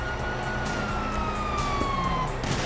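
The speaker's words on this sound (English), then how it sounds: "you hear that? Siren." A police siren wails in a Grand Theft Auto V game scene, a steady rising and falling tone sitting at mid distance over a dense, noisy backdrop of game ambience.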